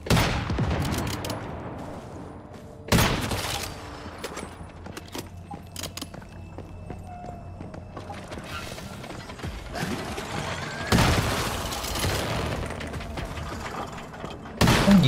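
Bursts of gunfire ring out in Once Human during a factory raid, with a few sharp volleys separated by quieter stretches of mechanical clicks and reloading.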